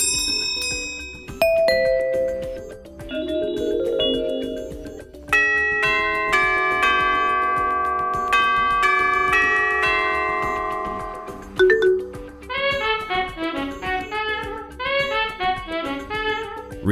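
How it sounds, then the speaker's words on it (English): A Honeywell 5 Series plug-in wireless doorbell plays several of its pre-installed chime tunes one after another: bright electronic bell melodies and ding-dong patterns with ringing tones, separated by short pauses, loud and clear. "you will also be alerted by any of the 6 pre-installed 84"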